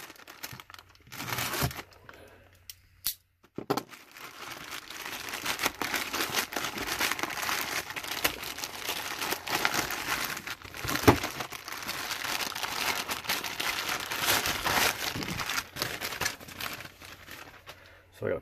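Packaging crinkles and tears as a mail-order package holding parts for a leaping arch Christmas light build is opened, a long stretch of dense rustling and crackling after a brief pause, with speech-like sounds mixed in.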